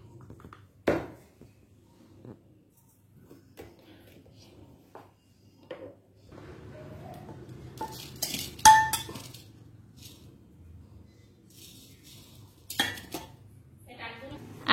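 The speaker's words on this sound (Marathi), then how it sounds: "आता हे मिक्स करून घ्यायचं। गोबी, लाल मिरची, मीठ ॲड करते मी।" Cauliflower florets tossed by hand with red chilli powder and salt in a kitchen bowl, giving scattered clinks and scrapes of utensils against dishes, a few sharper knocks, with quiet stretches between.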